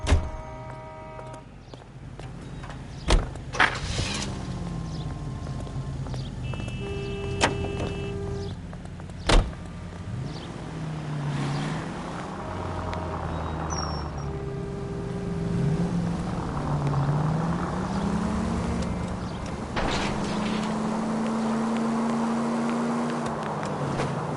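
A commandeered car drives through the streets in L.A. Noire, a low engine hum rising and falling with gear changes, punctuated by a few sharp impacts and tonal game sounds.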